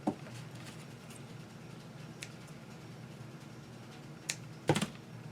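Scissors snip through ribbon for a shabby chic bow, a couple of brief close crisp cuts near the end over quiet room tone, with a faint click earlier.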